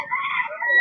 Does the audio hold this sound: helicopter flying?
no